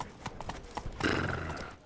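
Roach, the horse in The Witcher 3 video game, gallops with rhythmic hoof clip-clops, then gives a loud whinny near the middle, close and clear with no talk.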